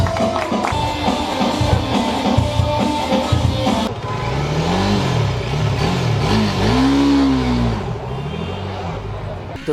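Bajaj Dominar 400 motorcycle on its stock exhaust, revving loudly nearby with a rumbling engine note that repeatedly swells and sinks in pitch, ending in a long rising and falling rev.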